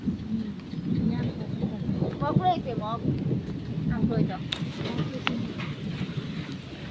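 Heavy rain falls steadily as a constant background hiss during a storm at a mango tree, with people talking over it in the foreground.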